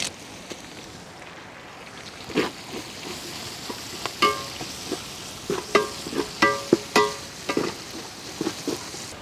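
Green chilies and curry leaves frying in a pan while cooking a beef liver pepper fry, with a soft steady sizzle broken by intermittent stirring clinks and scrapes that grow more frequent toward the end.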